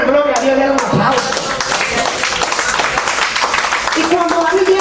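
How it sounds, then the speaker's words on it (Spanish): Congregation at a church service applauding, dense clapping from many hands sustained throughout, with a preacher's voice calling out over it at the start and end. "dele un aplauso"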